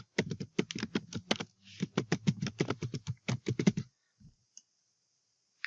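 Fingers type rapidly on a computer keyboard, entering an email address in a close, crisp burst of clicking keystrokes that stops abruptly, followed by near silence and a stray click.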